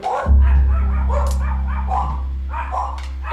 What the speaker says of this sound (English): That dog barking feels like the owner's coming home.